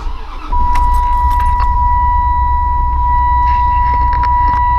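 An '02 Dodge Ram Van 3500 Roadtrek motorhome engine cranks briefly, catches, and settles into a loud, steady idle with a persistent whine, while keys jingle faintly near the ignition.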